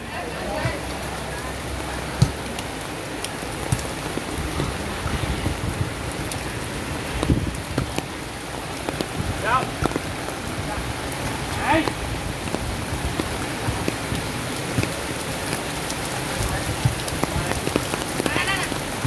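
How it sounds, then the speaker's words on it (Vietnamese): Heavy rain pours steadily through a stormy flood season, a dense continuous hiss with scattered louder drops, sustained and close throughout, with no speech over it. "Mưa càng ngày càng nặng hạt các bạn ơi."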